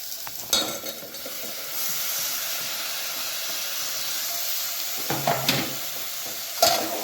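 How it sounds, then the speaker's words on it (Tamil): Tomatoes sautéing in a pan for tomato rice, a steady sizzle with hiss running throughout, punctuated by a few sharp stirring scrapes near the start and end; no voices. "இந்த தக்காளி வந்துட்டு நல்லா நல்லா வதங்கி சுருண்டு வரட்டும்"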